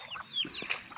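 Chickens cluck softly in a muddy farmyard, a few short calls close together over quiet background noise.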